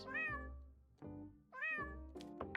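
A cat in JudgeSim gives two drawn-out, clear meows a moment apart, followed by a few short softer sounds, heard alone and fairly quiet.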